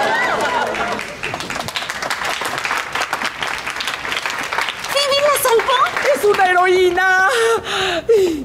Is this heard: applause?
yes